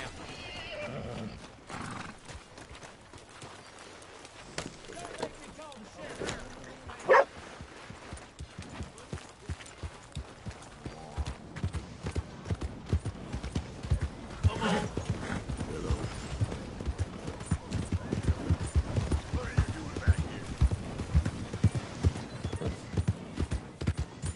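Horse hooves clip-clop steadily as a rider travels in Red Dead Redemption 2, with occasional neighs and whinnies, the rhythmic footfalls growing denser and louder toward the end.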